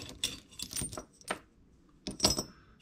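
A couple of old keys dug up while metal detecting jangle and clink together in bursts, a cluster of metallic rattles followed after a pause by a sharper jingle, close and alone.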